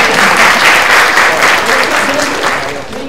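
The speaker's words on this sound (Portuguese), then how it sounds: "uma salva de palmas para você" A loud, close round of audience applause at a conference session on strength training for older adults, dense clapping that holds steady, then eases slightly at the end.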